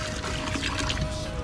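Water gushes from a Jetmatic hand pump in a continuous, close splashing pour, steady and fairly loud throughout the short moment.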